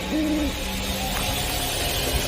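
A single low, hollow owl hoot near the start, heard over a steady background hiss of night ambience in a village, near a jackfruit tree.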